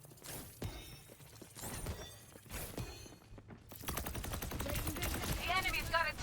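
An enemy turret in the game Overwatch 2 fires rapid bursts of shots amid clattering game effects, with a voice speaking over the busy mix.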